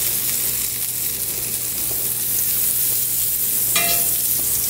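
Brook trout sizzling in butter in a seasoned pan, cooked on an ice fishing trip in Maine; a steady, close frying hiss runs throughout with a brief stirring scrape near the end.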